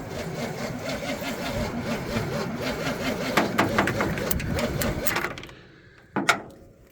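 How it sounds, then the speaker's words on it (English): Starter motor on a 1972 Chevrolet C10 Cheyenne grinding and chattering steadily in a fast rhythmic churn, then cutting off abruptly, followed by a short sharp knock. "the starter is sticking a little bit"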